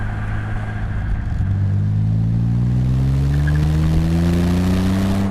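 A 1968 MG MGC engine accelerating on the road, a loud close droning note climbing steadily in pitch as revs rise through a gear, with a brief dip around a shift early on.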